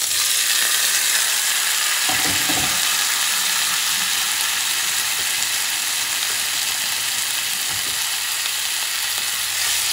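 Bison meat sears in a preheated cast iron pot with salt, making a loud, continuous hiss and crackle close up, with a few brief clunks as pieces are moved.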